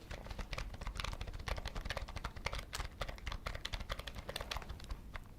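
Fast, continuous typing on a computer keyboard fills the scene with dense, even key clicks at close range and no speech, in an ASMR computer-repair roleplay setting.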